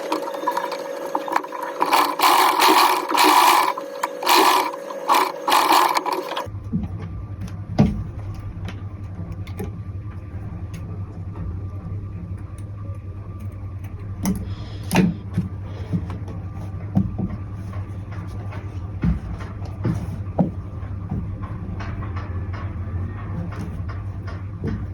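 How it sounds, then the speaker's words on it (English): A machine top-stitches tailored short pants, giving a loud, choppy mechanical run for the first several seconds, followed by a long, steady low hum with sparse clicks and rattles. "I'll top stitch this place."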